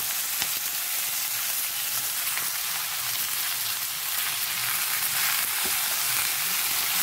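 Potatoes, eggplant, pumpkin and Malabar spinach stems fry with turmeric in hot oil, sizzling steadily and close throughout, with occasional scrapes and knocks of a spoon stirring the vegetables.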